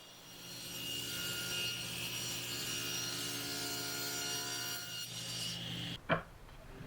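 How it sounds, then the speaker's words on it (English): A table saw cuts through a wooden part for an adjustable tenoning jig, its motor running a steady, loud whine with a continuous hum for several seconds before winding down, followed by a brief clunk. "I went ahead and I cut it with my table saw"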